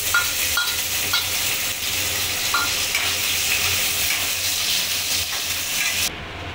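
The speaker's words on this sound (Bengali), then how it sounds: "এখানে কিশমিশ আর নারকেলটাকে আমি ভেজে নেব।" Raisins and grated coconut frying in hot oil over a low gas flame give a steady, loud sizzling hiss with a few light clicks, then cut off abruptly near the end.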